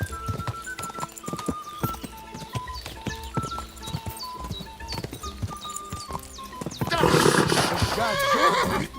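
Rhythmic hoofbeats clip-clop under a tense musical score in the game Kingdom Come: Deliverance II, with a horse whinnying loudly near the end; a voice briefly speaks.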